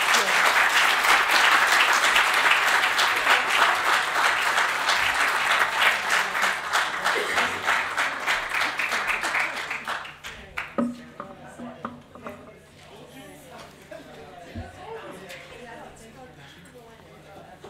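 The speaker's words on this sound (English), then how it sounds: "Let's give it a round of applause" Loud, dense round of applause from a conference audience at a summit session, sustained for about ten seconds before thinning into scattered claps and fading.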